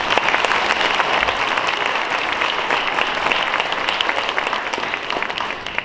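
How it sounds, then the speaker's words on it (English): Audience applause at a school winter concert following a sixth grade band performance, a steady, dense wash of many hands clapping throughout, fairly loud and close, with no talk over it. "Let's have one more round of applause for our sixth grade friends and band."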